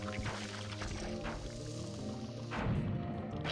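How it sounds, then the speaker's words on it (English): Bomb explosions in the video game Pikmin 2, a series of dull thuds and bursts over steady game music, with a louder, fuller blast near the end. "Hey, we get some explosions."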